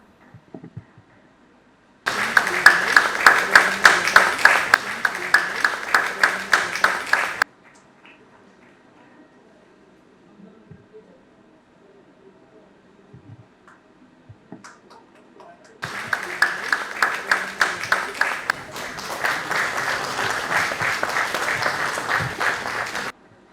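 Audience applause at an opening ceremony lamp lighting for a national printmaking workshop: two sustained bursts of clapping from a crowd, loud and close, separated by a quieter gap with faint background sounds.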